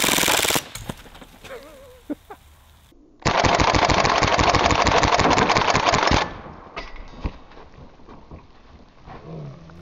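A full-auto BB gun firing at steel targets and plastic two-liter bottles, with a single sharp shot early on and then a loud, continuous rapid burst lasting about three seconds, followed by scattered light impacts and rattles.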